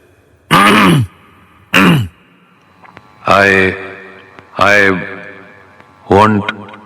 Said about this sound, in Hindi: गला साफ करते हुए बोलता है